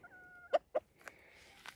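A few short, soft hen clucks close by, two clear ones followed by quieter calls, with a faint background hum.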